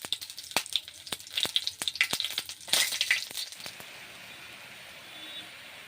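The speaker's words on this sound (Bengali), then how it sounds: "ফুলকপি দু পিট উল্টো পাল্টে ভেজে নিচ্ছি" Cauliflower frying in a hot pan: sharp crackles and pops over a steady sizzle, the popping busy at first, then settling into a quieter hiss.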